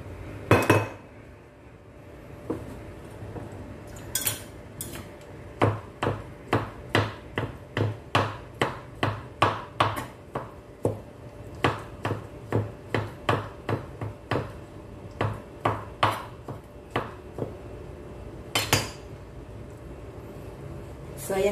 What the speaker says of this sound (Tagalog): At mag-chop tayo ng kaunting olives dito lang para may